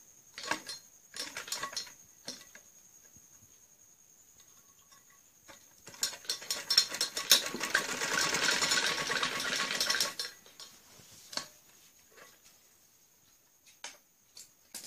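A sewing machine stitches along the folded-in edge of trouser fabric, starting with short intermittent bursts, then running steadily for a few seconds before falling back to brief stops and starts.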